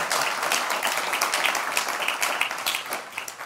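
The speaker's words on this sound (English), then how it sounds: "Let's give a big round of applause." Audience applause following a talk on generative AI in cybersecurity, a dense steady wash of many hands clapping that carries on evenly for the whole stretch with no voices over it.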